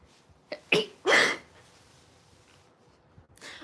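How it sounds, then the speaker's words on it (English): A single sneeze cut off partway, heard close up as a short sharp burst followed by a stifled breathy puff, then near silence with faint breathing. "I sneezed, but then I stopped it halfway"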